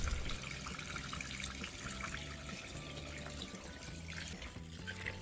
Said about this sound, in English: tilt the basin and drain the water